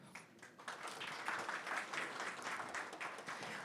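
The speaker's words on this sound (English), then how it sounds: "So round of applause for them" Audience applause for the sponsors at a talk on self-directed learning in the age of AI, a steady, moderately quiet round of clapping from a room of people throughout.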